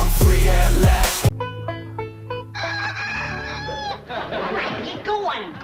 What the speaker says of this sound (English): Earl, did you have to crow this early?